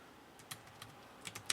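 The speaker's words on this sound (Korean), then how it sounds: "여러분들 타이핑 쳐주시면 됩니다." Keys tapped on a computer keyboard, sparse clicks at first then a quicker cluster near the end, close and quiet with no voices.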